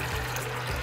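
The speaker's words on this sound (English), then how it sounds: "Then go in with 4 cups of cold water." Cold water poured steadily into a blender jar holding rinsed soybeans, a constant close splashing wash with no pauses and no voices.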